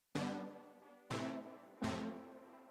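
Three punchy stabby synth chords with compression, chorus, equalizer and delay, each struck sharply and decaying, spaced unevenly about a second apart with a quiet gap before the first.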